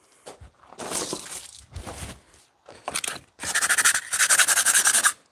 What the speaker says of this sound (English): Right, again, a wee bit of sandpaper.